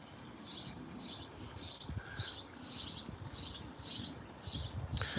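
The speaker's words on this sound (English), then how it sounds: "Oh, the birds are making a racket." Sparrows living around a house chirp in quiet, evenly spaced bright bursts, about nine in a row, over soft background noise.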